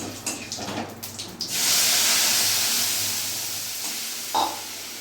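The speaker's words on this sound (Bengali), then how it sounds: "আর এখানে আমার আদা কাঁচা লঙ্কা টমেটোর পেস্টটা আমি পুরোটা দিয়ে দেবো।" A paste of ginger, green chilli and tomato hits a hot pan with a sudden loud hiss that dies into a long, steady sizzle, with a brief clatter near the end and no talk.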